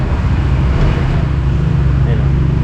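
A new 2026 Honda ADV 160 scooter idles steadily after starting, a low, even engine hum with a quiet, smooth tone held throughout at close range, with no talk over it.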